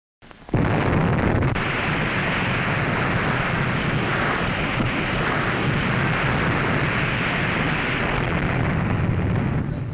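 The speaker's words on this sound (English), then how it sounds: "Can we get an explosion in there?" A loud, sustained explosion rumble that bursts in suddenly and roars on steadily with deep low-end for the whole stretch, no voices.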